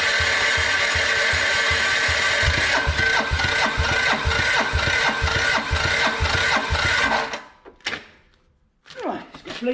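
A diesel engine, freshly bled at the fuel injector during a repair, cranks and chugs loudly with a rapid rhythmic pulse for several seconds, then cuts out, leaving brief faint clatter.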